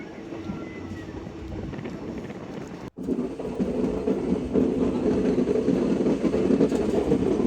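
Train rolling through jungle and hills near Jaigaon, heard as a steady rumbling roar with wind buffeting. It cuts out abruptly for a moment, then returns louder and denser.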